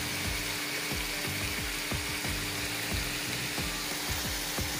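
Grated carrot fries in a pan for carrot farofa, with a constant loud sizzle and a faint rhythmic clicking ticking underneath at a steady pace.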